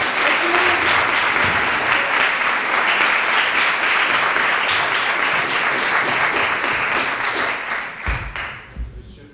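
Loud, dense audience applause for the Prime Minister at the start of a debate, a continuous roar of clapping that tapers off near the end into a few scattered last claps.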